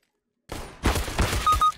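Rapid gunfire in the shooter CS:GO, a quick burst of several loud, close shots after a moment of silence, cracking in a fast, slightly uneven rhythm.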